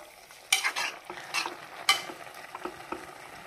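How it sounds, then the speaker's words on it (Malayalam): Kerala avial curry being stirred in a pan, a few soft scraping strokes and light clinks of a spoon against the pan, close and quiet with no talk. "എന്നിട്ട് ഒന്നുകൂടി ജസ്റ്റ് ഒരു തിള വരുന്ന വരെ നമുക്കൊന്ന് നന്നായിട്ടൊന്ന് മിക്സ് ചെയ്ത് കൊടുക്കാം."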